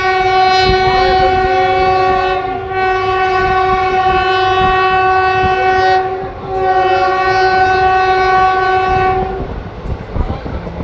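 A Katwa–Nimtita passenger train runs with a loud, sustained horn blaring over the steady rumble of the rails. The horn dips briefly twice before cutting off near the end.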